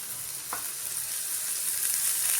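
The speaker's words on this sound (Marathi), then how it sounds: "आता मी परत एक चमच्याभर थोडंसं तेल टाकणार आहे" A spoonful of oil hits a hot kadai and sizzles, a close crackling hiss that keeps building steadily, with a short clink early on.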